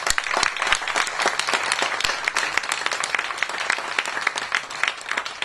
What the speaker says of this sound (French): On peut applaudir tous ces bénévoles